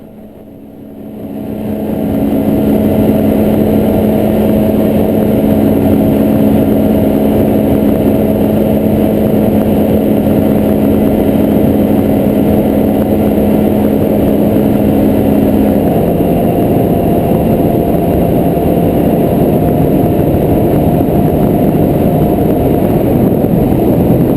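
A light aircraft engine climbs to a loud, steady drone during a crosswind takeoff, heard from inside the cabin, with a slight shift in pitch partway through and no speech.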